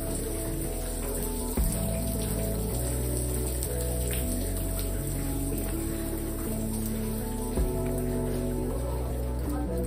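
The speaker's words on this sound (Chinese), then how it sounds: "哇，都在滴水" Water drips steadily throughout a lava ice cave at the foot of Mount Fuji, soft patters scattered over a constant low hum and echoing cave ambience, with no clear talk.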